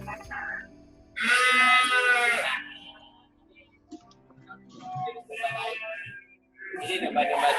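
Crossbred Merino or Texel-type sheep at a farm let out a loud, drawn-out bleat, followed by shorter, fainter bleats and other animal calls. A voice is heard between them.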